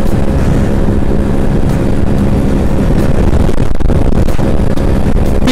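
Yamaha RX-135 two-stroke motorcycle engine while riding, a steady loud rumbling drone with wind buffeting the microphone, constant and close throughout.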